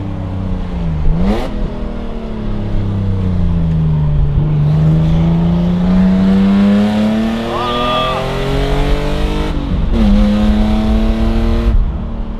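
A BMW E28 M5 driving on a road at moderate speed, its engine droning steadily with rising and falling revs through gear changes, heard from inside the car while people talk over it.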